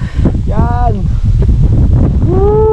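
Strong wind buffets a microphone outdoors in a steady low rumble, with voices calling out over it.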